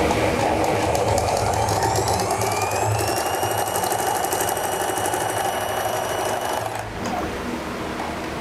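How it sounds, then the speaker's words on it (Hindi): A sewing machine runs steadily for about seven seconds, stitching a salwar belt with a fast, even mechanical whir, then stops abruptly near the end. "इसी तरह आपने दूसरी सिलाई लगानी है।"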